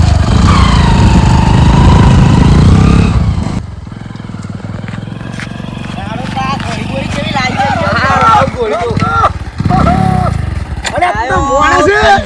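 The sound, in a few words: motorcycle engine running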